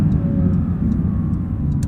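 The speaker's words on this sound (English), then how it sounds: "the exhaust gets a little bit quieter in this mode too" A 2023 Porsche 911 GT3 with a manual gearbox drones at a steady, low, rumbling pitch through its exhaust in the quieter normal mode, heard from inside the cabin while cruising.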